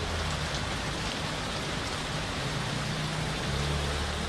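Heavy torrential rain pours down in Rawalpindi, a steady, dense hiss of drops drumming on surfaces with a low rumble underneath, continuous and unbroken.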